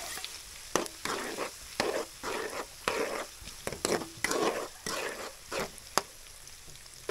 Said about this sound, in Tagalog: Mainit na yung mantika. Lagay yung bawang. Golden brown muna natin. Sibuyas.